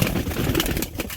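A pigeon kept for sale coos in a short, soft, close burst with faint background noise.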